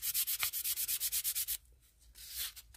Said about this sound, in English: It is really easy to sand when it's this soft.